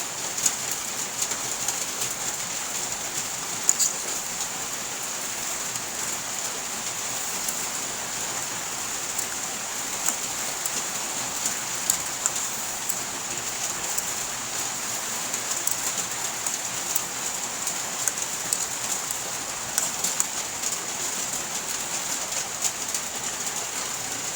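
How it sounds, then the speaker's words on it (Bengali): Heavy rain pours steadily on a rainy day, a dense, even hiss with scattered drops tapping nearby surfaces, constant and alone throughout with no talking. "তো অনেক বৃষ্টি হচ্ছে আজকে, দর্শক বন্ধু দেখেন, অনেক বৃষ্টি।"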